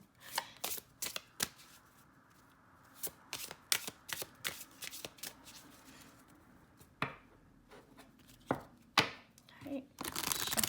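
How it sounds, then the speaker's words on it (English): Oracle cards are shuffled repeatedly in quick riffling bursts, close and crisp, with short pauses between, ending in a longer rapid shuffle. "shuffle's really lovely"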